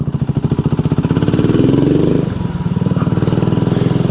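A BSA Gold Star single-cylinder motorcycle engine runs close and loud with a steady, rapid thumping beat, briefly shifting pitch as the revs change before settling back into its pulsing rhythm.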